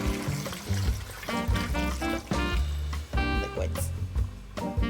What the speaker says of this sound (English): I'm going to add more water. You want the liquid to cover the roast.